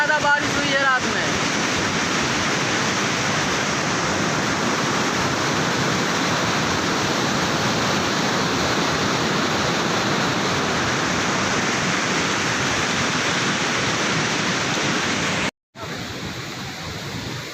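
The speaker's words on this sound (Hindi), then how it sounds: "ये एक छोटा सा नाला है और देख सकते हैं नदी जैसा पूरा हो गया।" Floodwater roars steadily through a small drain in Lucknow swollen like a river after heavy overnight rain, a loud, continuous broadband rush that cuts out briefly near the end before resuming.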